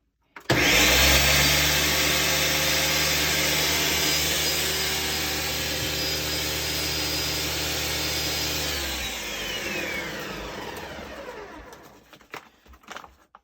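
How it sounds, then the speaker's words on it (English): A grinder loudly whirs through a batch of cacao beans for about nine seconds, then spins down and trails off into a few faint clicks near the end. "Check and make sure all the beans ground up."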